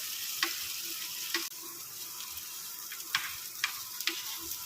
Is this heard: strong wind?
no